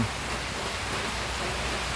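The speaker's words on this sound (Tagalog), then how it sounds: "Ngayon po ay napakalakas pa rin ng ulan." Heavy rain pouring down steadily during the rainy season at a flooded poultry farm, a constant dense hiss with no breaks.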